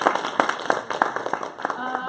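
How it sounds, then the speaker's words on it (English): Scattered hand claps from a small seminar audience, a few distinct claps spread across the moment, with a voice talking over them. "Let's give a round of applause."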